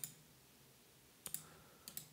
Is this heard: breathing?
no